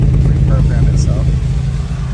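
A 1995 Toyota 4Runner engine idles near 1,000 RPM with a close, steady low thrum and a slightly uneven pulse, while someone talks over it.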